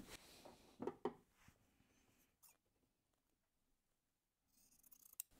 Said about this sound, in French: je vais couper un peu d'excédent du molleton